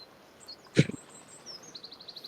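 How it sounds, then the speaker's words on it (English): Birds chirp faintly in a pastoral tabletop-game ambience with a gentle breeze through trees: a brief louder call, then a quick string of small, high, evenly spaced tweets toward the end. "The birds are chirping happily"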